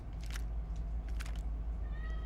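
A cat meows a few times in the game Starfield, short faint calls over a loud steady low hum.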